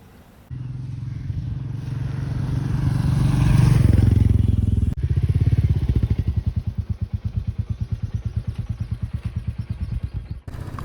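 A motorcycle ridden along roads in Meghalaya: a close, loud engine rises in pitch as it accelerates, then settles into a rapid rhythmic thrum with a pulsing beat, along with wind and road noise, and no talk.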